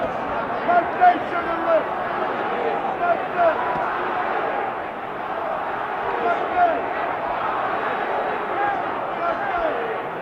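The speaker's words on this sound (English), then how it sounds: "I can't make out, frankly, what the crowd is yelling in the background" A large arena crowd roars and yells at a heavyweight boxing match, Muhammad Ali against Oscar Bonavena in 1970, a constant distant wash of noise under a commentator's talk.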